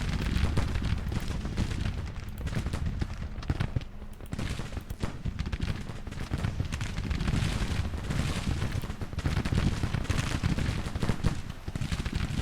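Skirmishers firing muskets in the Civil War strategy game Grand Tactician, a constant crackle of many scattered shots rolling on without a break, heard from a distance.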